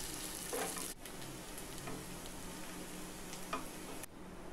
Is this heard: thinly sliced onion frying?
yes